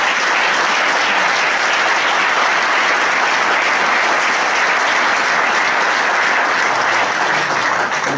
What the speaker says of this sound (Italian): io farei ancora un applauso ai parlamentari che sono qua questa sera